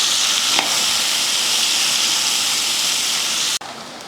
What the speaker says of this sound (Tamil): அதே எண்ணெயில் ஒரு பெரிய வெங்காயம் நல்லா நீல வாக்கில் வெட்டியிருக்கேன், அதையும் சேர்த்துக்கலாம். சேர்த்து லைட்டாக வதக்கி விட்டுருலாம்.